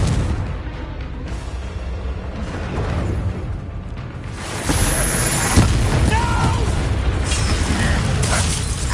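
A Confringo blast spell from a Harry Potter video game erupts as a loud, dense burst of explosive rumble that sweeps into a heavier roar midway and holds steady, with a voice shouting among the game sounds.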